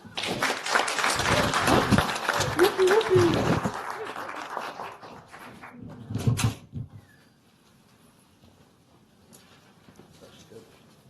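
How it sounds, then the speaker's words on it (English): Applause in a county board of supervisors meeting room, several seconds of clapping mixed with voices, fading out abruptly to quiet room tone. "We all owe her a round of applause."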